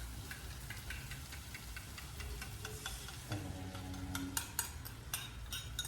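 Scrambled eggs with tomato, onion and cilantro are stirred in a pan, making a steady soft sizzle with repeated scraping and clinking of a utensil that grows busier toward the end.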